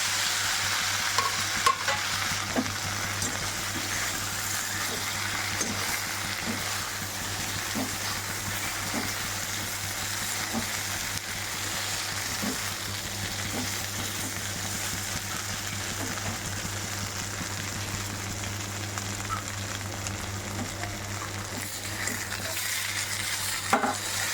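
Sesame seeds, curry leaves and chillies crackle in hot oil as dhokla is tossed in, giving a long, even sizzle with faint, occasional scraping of a spoon, steady and close throughout.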